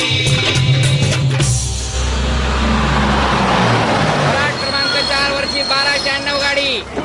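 A local train at platform 4 of Pune station, bound for Akurdi, rolls in loud and close with a heavy rumble, clattering wagons and long high-pitched wheel squeals; voices are faintly heard underneath.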